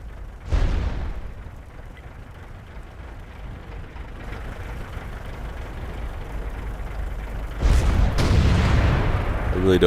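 A tank cannon in World of Tanks, fired from an M103 on the El Halluf map, booms sharply once early on, then a low engine rumble runs until a second heavy blast near the end. A voice talks over it.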